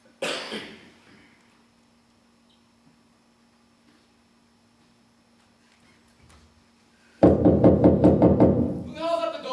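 Rapid series of firm knocks at a door, about ten sharp raps close by, following a brief voice and a long quiet pause.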